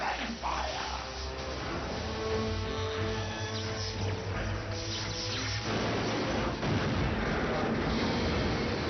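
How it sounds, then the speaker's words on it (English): A roaring, rumbling blast of dragon fire from Predacon dragons in Transformers Prime, dense and sustained with explosive booms and shrieks layered through a thick soundtrack mix. "My legions, arise and purge this world with your dragon fire!"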